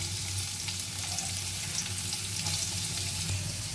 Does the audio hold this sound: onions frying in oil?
yes